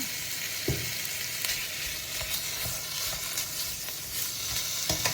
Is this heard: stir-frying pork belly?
yes